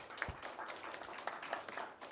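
Scattered applause from a seated audience at a Gwangju city council citizen safety policy debate forum, a modest, fairly quiet patter of hand claps continuing steadily for a couple of seconds in a hall.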